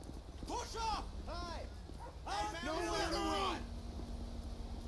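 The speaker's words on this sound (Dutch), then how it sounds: "die hond is helemaal te blaffen" A dog barks in GTA 5 amid a police arrest scene, the barking arriving in bursts mixed with loud overlapping shouting and talk.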